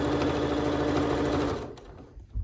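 A sewing machine runs a straight stitch through stretch knit fabric with a stretch needle, giving a steady fast motor whir. It slows and stops near the end.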